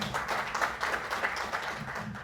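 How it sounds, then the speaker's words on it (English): Audience applause at an anniversary celebration in Qatar, a steady wash of many hands clapping throughout, fairly even in loudness with no clear break. "Please give round of applause"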